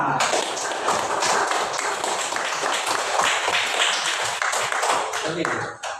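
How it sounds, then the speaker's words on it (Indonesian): A class of students claps for a classmate in a school lesson, a dense, steady patter of many small hands filling the room at close range, with faint voices mixed in before it fades at the end. "tepuk tangan untuk Mama"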